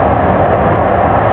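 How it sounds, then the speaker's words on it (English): Interior of a moving passenger train, a loud, even, continuous rumble with a muffled low drone and no distinct voices. "I'm on a train"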